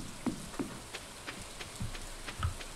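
Rain falls in the farming video game Stardew Valley, heard as faint, soft pattering with scattered light drop ticks in a quiet, even wash and no voices.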